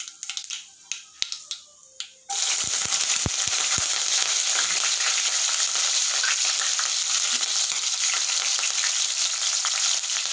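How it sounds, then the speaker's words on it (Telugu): Freshly washed, still-wet chopped onions and green chilies drop into hot oil with cumin and mustard seeds, setting off a loud, continuous sizzle and crackle after a few quiet clinks. "ఉల్లిగడ్డ పచ్చిమిరపకాయ ముక్కలు వేసిన వాటర్లో కడుక్కున్నాను కాబట్టి కొంచెం బాగా చిటపటలాడినాయి"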